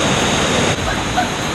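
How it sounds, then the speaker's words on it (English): A small waterfall on Kauai, Hawaii pours in a loud, steady broadband rush of falling water, close and continuous with no voices. "one of my favorite smaller waterfalls I've seen today"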